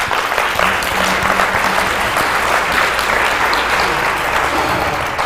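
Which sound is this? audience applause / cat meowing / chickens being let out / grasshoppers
audience applause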